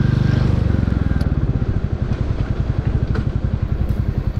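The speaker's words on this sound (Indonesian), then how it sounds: "Selain thumping, ciri khas mesin Royal Enfield yang torky tentunya masih bertahan" A Royal Enfield Classic 350 single-cylinder engine thumps close and loud with a steady, rapid pulsing beat, running continuously without any voices.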